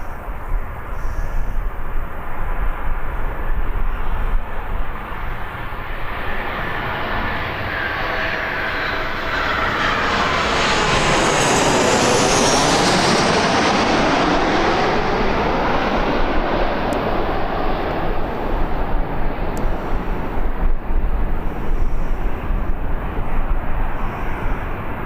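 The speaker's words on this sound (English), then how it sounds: "It's to have a plane arriving as well. It's right on top of us." A plane arriving at Birmingham Airport passes close overhead, a loud, sustained jet roar that swells to a peak midway and then slowly fades, heard alone without talk.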